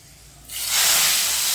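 Hot tempering of mustard seeds, dried red chillies, ajwain, curry leaves and asafoetida poured into boiling sambar, bursting into a loud, close hiss that swells after a quiet start and holds steady.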